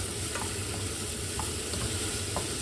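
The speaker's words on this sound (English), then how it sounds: "I'm frying it first, and again, it's for the sake of flavor and aroma." Onions and spices sizzle steadily in hot oil in a pan for Iraqi white bean stew with lamb, a close, continuous frying hiss with faint stirring scrapes and no talk.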